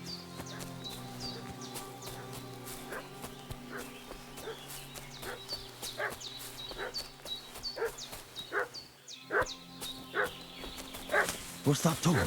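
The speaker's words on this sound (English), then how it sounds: "What's that dog making such a fuss about?" A dog barks repeatedly in Kingdom Come: Deliverance II, sharp yaps coming in irregular bursts that grow louder and closer toward the end, over a soft ambient game soundscape with some voice present.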